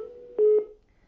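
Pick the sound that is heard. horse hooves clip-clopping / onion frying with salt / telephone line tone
telephone line tone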